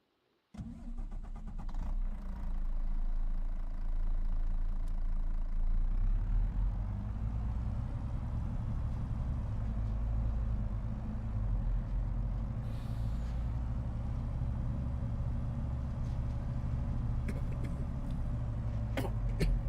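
Simulated truck engine in Farming Simulator 25 on the Kinlaig Highlands map, starting with an air-brake hiss then settling into a loud, steady rumbling idle that continues throughout, no talking.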